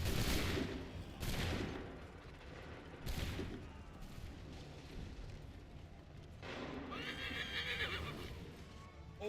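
A volley of musket gunfire rings out in the Assassin's Creed III video game, with several loud, broadband bursts spaced a few seconds apart over horse whinnies and hoofbeats.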